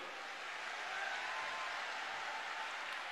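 Dense crowd applause greeting saints at a Hindu gathering in Noida, a continuous wash of many hands clapping at even loudness throughout, with no speech over it.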